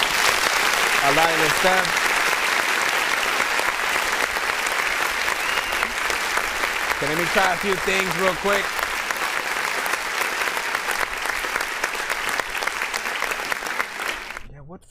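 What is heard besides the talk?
audience applause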